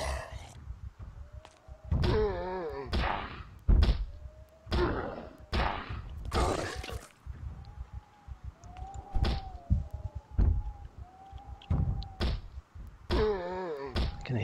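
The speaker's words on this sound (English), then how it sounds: "I hear so many zombies banging on things here." Zombies banging on things in Project Zomboid, a run of heavy thuds and knocks at irregular intervals, some close and loud, mixed with softer distant bumps.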